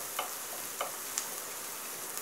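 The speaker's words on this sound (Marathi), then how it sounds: "यामध्ये आता आपल्याला कढीपत्ता घालून परतायचा आहे" Curry leaves and onions sautéing in a pan, a steady close sizzle with a few sharp stirring clicks and pops spaced through it.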